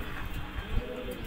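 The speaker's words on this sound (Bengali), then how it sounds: "এটা একটা টেডি কবুতর" A teddy pigeon in a loft cooing softly, a low throaty coo under steady background hum, with no talk over it.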